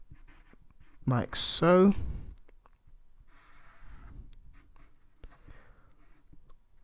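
Pen or chalk scratching out a probability proof by hand, faint intermittent strokes and taps after a brief spoken phrase, with quiet room tone between marks.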